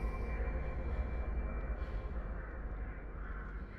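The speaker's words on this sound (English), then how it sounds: "They were crows!" Crows cawing inside the horror video game Dead by Daylight, a steady flurry of harsh calls over a low rumbling game ambience, fairly faint and continuous with no voices.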